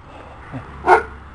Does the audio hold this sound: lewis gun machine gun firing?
no